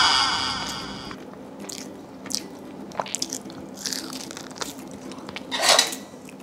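Crunchy barbecue pork rib cartilage, coated in McCormick barbecue sauce, bitten close up, giving a few sharp crisp crunches with light clinks of dishes and cutlery between the bites.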